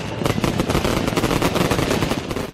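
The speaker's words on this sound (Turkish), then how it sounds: "havai fişek gösterileri kırsal bölgelerde yapıldı" Firecrackers explode in a dense, rapid barrage during Chinese Spring Festival celebrations in a rural area, a loud, continuous crackling and popping with no pause.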